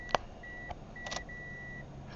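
Warning chime from a 1998 Ford Escort ZX2 with the key held, sounding as a few steady, fairly faint electronic beeps of uneven length, with a couple of soft clicks between them.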